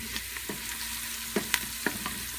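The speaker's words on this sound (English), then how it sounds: "start to stir it around, get all the flavors melded together." A spoon stirring meatballs in sauce in a pot, with a soft scraping stir, a few brief clinks and a gentle sizzle underneath, heard close and on its own.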